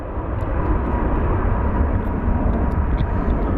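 An MD-11 airliner touches down at Phoenix Sky Harbor airport, a loud, close, broadband roar of engines and rushing air holding steady throughout.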